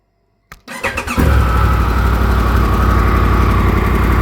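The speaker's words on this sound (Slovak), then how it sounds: "Takže motorka veľmi pekne slušne štartuje" A motorcycle engine cranks with a quick sputter, catches after about a second, and settles into a loud, steady close-up idle with no talking.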